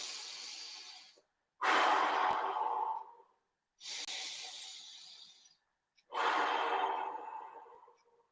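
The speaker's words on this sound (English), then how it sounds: "Breathe in." Deep, forceful breaths during an exercise circuit, three long airy exhalations separated by short silences, close and loud, each tapering off gradually.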